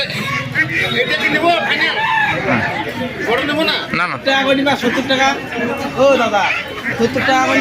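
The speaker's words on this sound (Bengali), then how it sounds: "খাঁচার ভিতরে কতগুলো মুরগা" At the old Matigara haat market in Siliguri, chickens kept in a cage cluck and squawk amid busy crowd chatter, with a speaking voice close by and the birds' calls rising through the babble.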